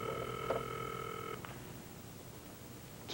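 Touch-tone telephone being dialed in a 1983 television drama, a few quick steady beeping tones close by for about a second and a half, then faint quiet room tone and a brief click near the end.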